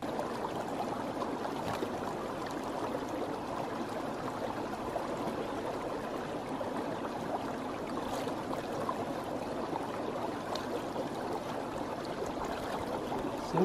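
A stream in the Scottish Highlands burbles steadily while drinking water is fetched, a constant mid-level gurgling wash with occasional small splashes nearby.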